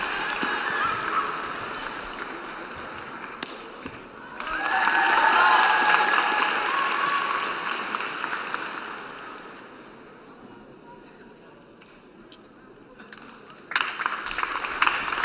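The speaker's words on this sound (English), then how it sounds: "And the home crowd just cheering on every single movement from the Russian athlete Pavel Muratov." A home crowd cheers a Russian athlete, Pavel Muratov, through a run of spinning jumps: a steady roar of voices that swells loudly mid-way, then fades before rising again at the end.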